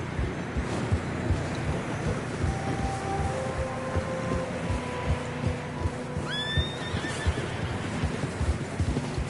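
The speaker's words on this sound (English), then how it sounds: "Horses are struggling." A horse whinnies loudly partway through, over steady rustling and wind noise, with faint hoof clops and snow crunching in the background; horses struggling through deep fresh snow in a video game.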